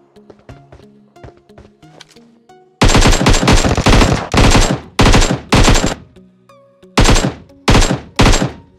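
Loud bursts of automatic gunfire in PUBG Lightspeed, played on the BlueStacks emulator: a long sustained volley followed by several shorter rapid bursts, with quieter game sounds in the gaps between them.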